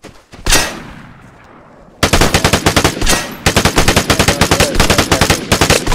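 M16 rifle fire in the video game Vigor: a single loud shot, then rapid sustained automatic bursts with a short break, close and dominant.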